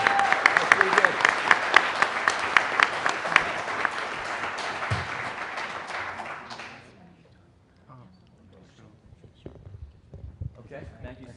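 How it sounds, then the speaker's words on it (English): Loud applause from a crowd, dense clapping that fills the room for several seconds, then fades out into quieter murmuring and scattered noise. "Another round of applause."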